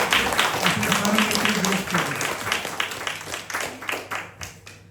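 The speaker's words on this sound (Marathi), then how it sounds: "स्वरमैत्रीसाठी एकदा पुन्हा एकदा जोरदार टाळ्या वाजवल्या." A concert audience claps together in a dense round of applause, strongest at first and thinning toward the end, with a voice talking over it near the start.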